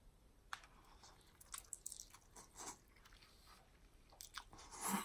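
Nongshim Pho Sriracha Beef instant noodles being eaten with their broth: soft, close slurps and chewing in scattered bursts, faint and with no talking.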